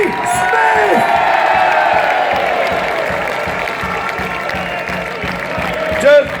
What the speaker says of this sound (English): A massive round of applause for our captain yesterday, Tommy Smith.